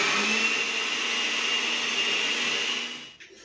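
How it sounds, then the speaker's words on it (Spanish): Blender whirring steadily as it purees oat, raw spinach and milk into pancake batter, a loud continuous motor drone that cuts off near the end. "Vamos a licuar."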